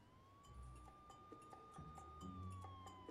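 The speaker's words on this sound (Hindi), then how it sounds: "पुलिस की गाड़ी का सायरन है" A police car siren wails as one faint, sustained tone in the distance beneath quiet background sounds and light bumps.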